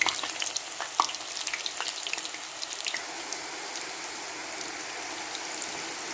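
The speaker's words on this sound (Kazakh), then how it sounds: "Табамызға май құйып, жақсылап қызып болғаннан кейін баклажандарымызды салып, үздіксіз араластырып отырып" Eggplant fries in hot oil in a pan while being stirred continuously, a bright close sizzle with scattered pops and scrapes early on that settles into an even hiss, no talking.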